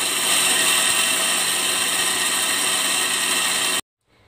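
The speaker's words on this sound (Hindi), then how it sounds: "तो अब इन सब चीज़ों को जो है ग्राइंडर में ग्राइंड कर लेंगे।" A kitchen grinder pulverising moong dal, cumin seeds and dried red chilies makes a loud, steady, close whirring roar that cuts off abruptly just before the end.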